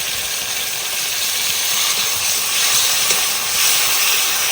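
Water poured onto spice paste of green chilli, dried chilli and black pepper frying in oil sizzles with a steady, bright hiss that swells slightly a few times, close and continuous, with no talking.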